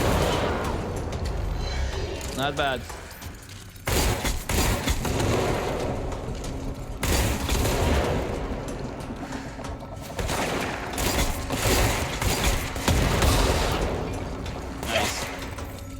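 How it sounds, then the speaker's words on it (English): Explosions and gunfire erupt in the video game Control, a dense run of loud, heavy blasts and crackling bursts that keeps going for the whole stretch, with a brief spoken comment partway through. "Mainly because I can control the explosion."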